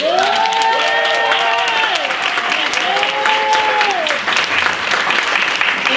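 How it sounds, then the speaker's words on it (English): Steady applause from a crowd at an awards ceremony fills the whole stretch, with harmonic tones of voices or music sliding over the clapping. "I think you all deserve another round of applause"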